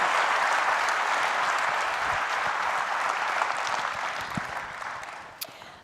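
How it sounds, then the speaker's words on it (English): An audience claps for Ray Dalio after a talk on building a culture where the best ideas win, a dense, steady round of applause that slowly fades toward the end, with no voices over it. "We give a round of applause to Ray."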